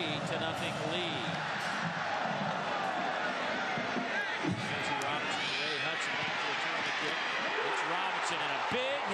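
Football stadium crowd roaring and cheering after a big hit on a kickoff return in a 2003 Alabama vs Ole Miss college game, a dense, sustained wall of noise throughout with a commentator talking over it.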